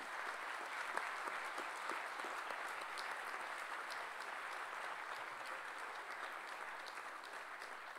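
Sustained applause from a large crowd at a university doctoral hooding ceremony, dense and steady clapping that continues evenly throughout without any voices standing out.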